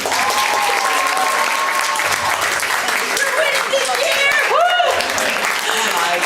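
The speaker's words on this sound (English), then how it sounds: "So give a big cheer if you're a dog." Crowd at an opening ceremony cheers and claps loudly and steadily, with whoops and high shouts rising through the dense applause, voices mixed in throughout.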